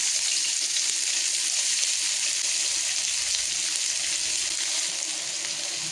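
Onion frying in heated oil for an egg puff filling, a steady close sizzle with no talk.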